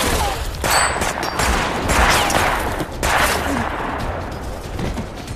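A battle scene from a film erupts in loud, close gunfire, with dense overlapping bursts and rapid volleys sounding continuously, without any pause.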